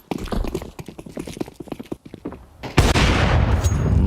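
Counter-Strike match gunfire, a rapid rattling string of sharp shots for over two seconds, a brief pause, then a loud burst of explosive noise that fills the rest of the moment.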